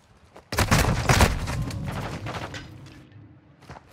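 Rapid gunfire bursts in the Modern Warfare II shooter game, a loud dense volley starting abruptly and trailing off into scattered shots and reverberant tails over a few seconds.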